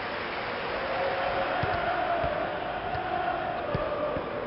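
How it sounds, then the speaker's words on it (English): Steady stadium crowd roar from the FIFA 2000 video game, a continuous dense murmur of cheering fans holding level throughout with a few faint thumps underneath. "The crowd lively then as we get underway."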